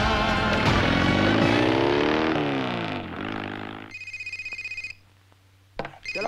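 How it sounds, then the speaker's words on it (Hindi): A telephone rings in a Hindi film scene, Baaghi, with a trilling electronic pulse sounding briefly after a music passage fades, then a short second burst. "ये देख ये देख फोन बज रहा बज रहा"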